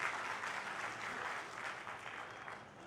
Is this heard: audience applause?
yes